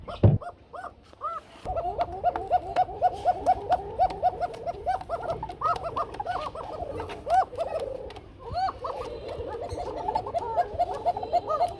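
Lahori pigeons cooing in a loft, repeated rolling coos close by in an irregular chorus, with a brief knock at the start and faint background noise.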